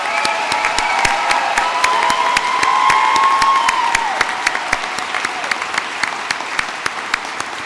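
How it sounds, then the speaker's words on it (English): A graduation audience breaks into sustained, dense applause in a large hall, steady clapping that holds, then thins toward the end, with a faint voice over it early on. "Let's give them all a round of applause."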